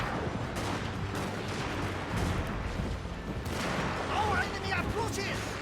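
Pistol gunfire from generals in Shogun 2 Total War crackles as a dense, continuous battle volley, with shots and bursts layered over one another at a steady, loud level. A voice talks over the fighting.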